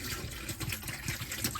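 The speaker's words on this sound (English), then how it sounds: "So I'm going to pour about half the bottle into the sink." RV antifreeze pours from a bottle into the bathroom sink of an Isata 5 36DS motorhome during winterizing, a close gurgling trickle with small splashes, heard alone.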